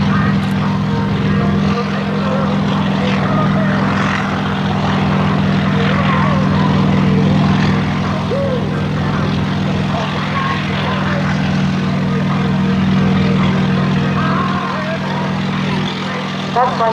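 A Sikorsky UH-34 helicopter flies display manoeuvres at the Westfield International Airshow, its engine and rotor droning loudly and steadily throughout, swelling and easing slightly as it moves.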